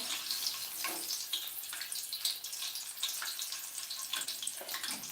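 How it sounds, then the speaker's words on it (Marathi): Slit green chillies deep-frying in hot oil, with a dense, bright crackling sizzle that holds steady and close throughout. "मिरची सुरुवातीला तळून घेऊया"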